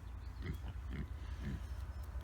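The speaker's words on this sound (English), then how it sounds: "the pigs are finishing up the bit of barley that I fed them now" Outdoor pigs eat barley in a mid-winter field in Cornwall, giving three soft, low grunts at a steady pace over a quiet, breezy background.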